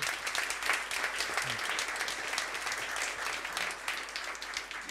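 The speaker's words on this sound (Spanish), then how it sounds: "Yo creo que se merece un aplauso por su participación" An audience at a banking talk gives a participant steady, dense applause throughout, a continuous even clapping with no standout sounds.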